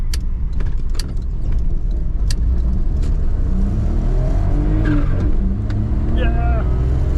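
Aftermarket blow-off valve on a 1996 Suzuki Jimny, a short hiss and whistle chirping near the end over a steady engine rumble, with talk around it.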